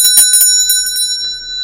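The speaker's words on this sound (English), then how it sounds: "I'm going to ring this bell" A meditation bell is struck several times in quick succession, each bright metallic ring overlapping into a sustained shimmering tone that slowly fades.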